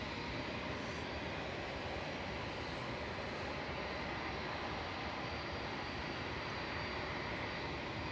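A jet climbs away from Manchester Airport into grey skies, a broad steady roar heard from a distance without much change in level.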